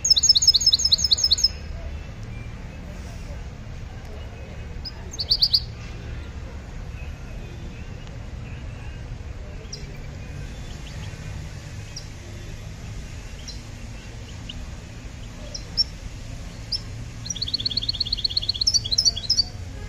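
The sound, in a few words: goldfinch singing at bird market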